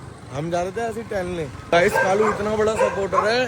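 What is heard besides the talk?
dogs barking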